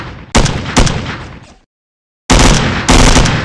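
Gunfire in a video game comes as loud, heavy bursts of rapid shots, cut off by a sudden second of silence before another dense burst resumes. It is close and harsh, with no talking.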